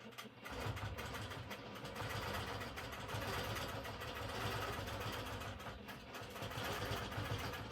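A longarm quilting machine runs steadily while stitching binding along a quilt's edge, giving a continuous, even mechanical hum and rapid needle chatter throughout with no talking.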